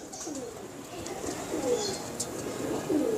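A Sialkoti pigeon, a three-year-old flying hen sitting on eggs, coos in soft repeated low phrases alongside other faint bird calls in the loft, with no speech.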